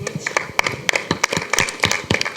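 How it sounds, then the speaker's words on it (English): A brief burst of live audience applause at an academic institutions session, honouring a young winner: a steady patter of hand claps, moderately close and loud, with no talk over it. "Give a really big round of applause to her."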